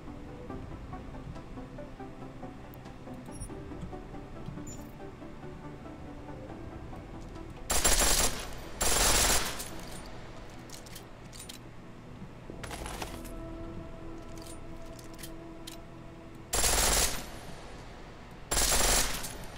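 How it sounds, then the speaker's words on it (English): Rapid full-auto pistol fire in Deus Ex: Mankind Divided, with four short, loud bursts spread across the clip over a low ambient hum. "The pistol in full auto will take down targets fast. But it'll burn through your ammo."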